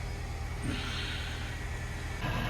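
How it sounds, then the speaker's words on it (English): A 1972 Aston Martin AMV8 Series II engine rumbles nearby in a low, steady drone, with a brief rise around the middle and again near the end, no voices. "So sorry about that car noise."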